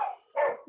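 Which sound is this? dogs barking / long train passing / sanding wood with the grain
dogs barking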